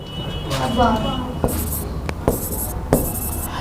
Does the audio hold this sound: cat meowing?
no